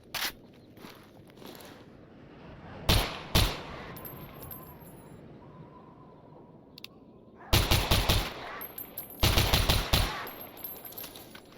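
SR25 sniper rifle shots from the Stalker Zona mod ring out in several loud, sharp bursts with quieter gear and reload clicks in between, and no voices are heard.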